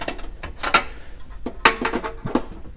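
A 17 mm spanner working the seat-mount bolts on a VW T6 campervan, a close series of sharp metallic clicks and ratcheting taps in irregular bursts, heard alone without talk.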